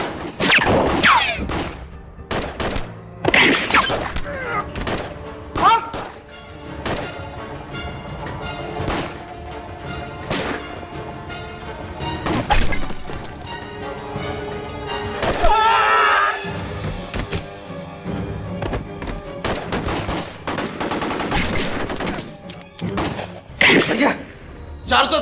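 Gunfire in a film shootout rings out as scattered loud shots and thuds amid frantic shouting voices and background score, with the shots arriving irregularly throughout.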